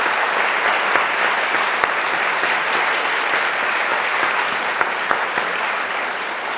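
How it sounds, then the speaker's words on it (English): Steady, dense applause from an audience at an art institute lecture, even and sustained throughout with a few sharper claps standing out. "please join me in a round of applause to thank them for making these programs possible"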